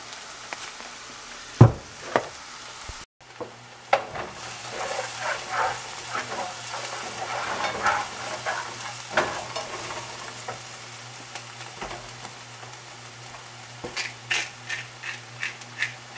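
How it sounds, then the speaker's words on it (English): Garlic and shallot sizzle in a pan of hot oil, a steady crackling frying sound with occasional scrapes and stirring knocks from a utensil, close and moderately loud throughout. "And then you're gonna add your garlic and your shallot onion"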